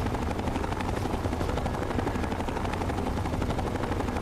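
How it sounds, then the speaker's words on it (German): A Vertibird helicopter from the video game Fallout 3 thrums continuously overhead, a dense, loud rotor chop with broad rumbling noise filling the whole stretch, no voices over it. "diesen Helikopter hier, diesen Vertibird über uns haben"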